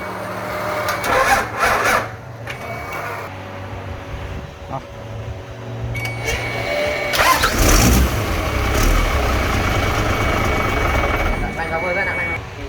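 A 6HE195 diesel engine cranks and fires up, settling into a loud, steady running roar with rising throttle, while people talk over it nearby.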